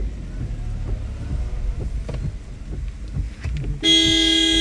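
A car on a road at night rumbles past amid wind noise and faint murmuring voices, then a long loud horn blast sounds close by near the end.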